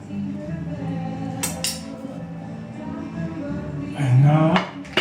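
A spoon scrapes and clinks against a bowl while basil pesto with Parmesan is spooned in, giving a few light metallic taps and a louder scraping clatter near the end, with a voice murmuring faintly underneath.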